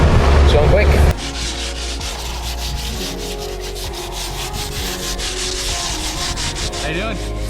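Steady rasping of sanding on a boat hull bottom, continuous and close, following a louder burst of machine noise at the start.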